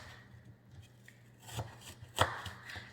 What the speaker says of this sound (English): We're just going to cut as close to the core as possible in larger slices